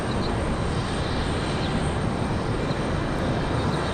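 An Air France Boeing 787 Dreamliner moves at the airport, giving a steady, dense broadband engine rush that holds at an even level throughout, with no voices.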